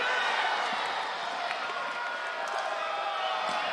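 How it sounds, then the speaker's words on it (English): A home crowd roars steadily through a judo match at the Baku 2019 Grand Slam, a dense, constant wash of cheering with a commentator talking over it. "all the cheering is for him"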